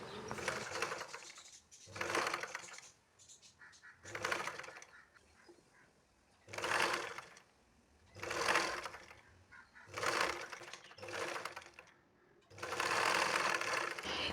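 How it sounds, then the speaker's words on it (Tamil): A sewing machine stitches lining cloth along the center of a cross piece in repeated bursts of steady whirring, each run lasting about a second or more and separated by brief pauses, ending in a longer continuous run. "இப்போ நம்ம கரெக்டாக அந்த சென்டரில் வச்சு தையல் போட்டுக்கலாம்"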